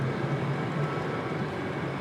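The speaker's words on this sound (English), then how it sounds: "They've been mowing the grass for like 12 hours today." A steady, droning engine of lawn mowing runs without pause, a constant mid-distance rumble filling the background.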